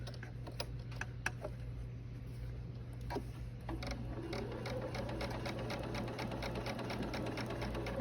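A Bernina St George sewing machine stitches along a drawn line on a mitered quilt border, its needle ticking in a steady rapid rhythm over a constant motor hum, nearby and without talk.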